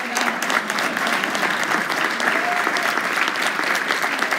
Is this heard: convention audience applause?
yes